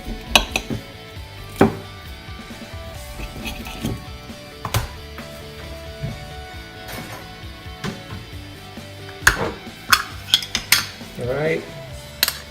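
Chicken cut with a jam knife on a plate for microwave basil chicken, giving repeated clattering scrapes and knocks of metal cutlery against dishware, close and fairly loud, in irregular bursts without speech.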